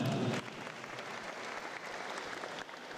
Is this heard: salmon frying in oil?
no